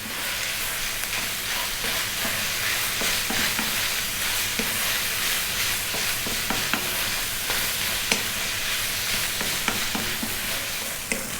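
Ground beef seasoned with salt and pepper frying in a pan, a steady loud sizzle and hiss with frequent scraping clicks of a utensil stirring the meat, no voices.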